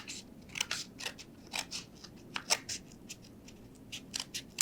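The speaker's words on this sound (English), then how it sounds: "So you can take a paper towel tube and then you can just make a bigger canoe by slitting it across like this." Scissors snip through a cardboard paper towel tube, slitting it lengthwise for a craft canoe, giving a run of sharp, close crunching cuts in an irregular rhythm with no talking.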